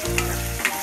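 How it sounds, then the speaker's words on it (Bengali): Onion and a ground paste fry in a pan for til achar, producing a loud, continuous sizzle with a couple of quick stirring scrapes. "পেঁয়াজের সাথে সুন্দরভাবে এটাকে ভাজতে হবে। ভাজা ভাজা গন্ধ বেরোচ্ছে।"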